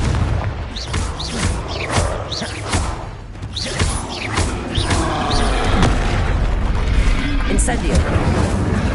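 Explosive Confringo spell blasts boom repeatedly in the Hogwarts Legacy video game, loud rumbling detonations and whooshes piling up in a chaotic fight with a voice speaking over them.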